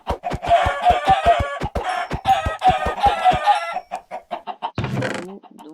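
Chickens cluck in a rapid, loud, close run of clipped calls with fowl-like squawks in a Minecraft game's farm, followed by a short burst of other game noise near the end.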